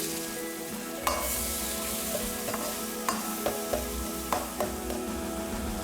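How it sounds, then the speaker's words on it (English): Beef fries in oil in a wok with a steady, even sizzle, broken by sharp scraping clicks of a spatula stirring the meat at a relaxed pace. "I just want to fry the beef till it's well browned"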